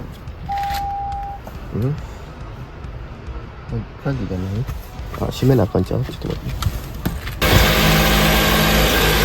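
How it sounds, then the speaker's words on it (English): People talk while a short beep sounds, then an accident car bought at a Japanese auction starts and settles into a loud, steady running engine at close range. "the engine is turned on"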